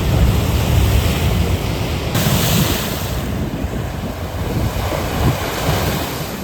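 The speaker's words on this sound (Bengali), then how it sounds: "পাশেই সমুদ্র।" Sea waves roll in steadily beside the Pondicherry beach promenade, a continuous broadband wash of surf with wind rumble across the microphone, loud and unbroken throughout with no voices.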